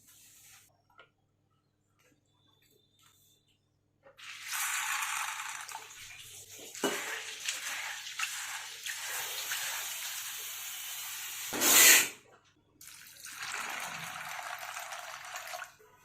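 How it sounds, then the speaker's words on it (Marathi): Soaking water from a pot of cowpeas splashes and pours out in a couple of steady streams, with a brief louder gush and short pauses in between, close by. "आता हे पाणी आपण ओतून देऊयात"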